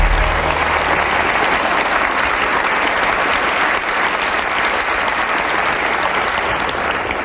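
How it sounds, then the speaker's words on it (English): Loud, sustained applause from a live audience in Jerusalem greeting a discussion panel on the Israeli-Palestinian conflict, an unbroken roar of many hands clapping with no voices over it. "Please give them a warm round of applause."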